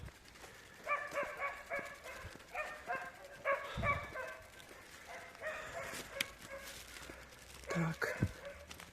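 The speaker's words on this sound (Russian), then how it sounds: "Везде собачки лают." Dogs bark in bursts along a village street in Troitsko-Pechorsk, several yips and bow-wows at moderate distance, with a faint voice and outdoor ambience between them.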